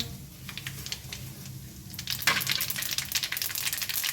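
Sesame seeds crackle and pop in hot oil alongside mustard seeds, cumin and asafoetida, the sharp snaps growing denser and louder toward the end.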